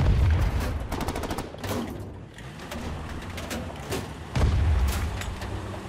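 Gunfire in the battle royale game Ring of Elysium, a burst of rapid repeated shots early on followed by scattered sharper reports over a low rumbling background.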